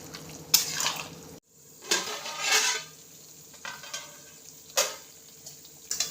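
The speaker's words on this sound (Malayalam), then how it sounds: "ഇതൊന്ന് ഇളക്കി കൊടുക്കാം ഇതിങ്ങനെ ഇടയ്ക്കിടയ്ക്ക് ഇളക്കി കൊടുത്തുകൊണ്ടേയിരിക്കണം" A spoon stirs peppered beef tongue being cooked down in a pot, giving scattered metallic scrapes and clinks against the pot over a soft bubbling simmer, with no talking.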